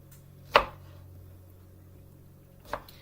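Two separate knife strokes cutting strawberries into quarters on a board, each a crisp, close thunk with a short gap of near quiet between them.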